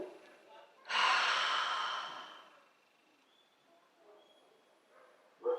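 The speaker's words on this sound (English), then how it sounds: "Okay, take a breath." A person draws one long, deep breath in, loud and close, then exhales more quietly, with a short sharp breath at the very end.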